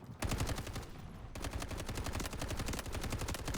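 Rapid automatic gunfire from a weapon in the Delta Force video game, loud and close, in sustained bursts with a brief pause near the start and then continuous firing.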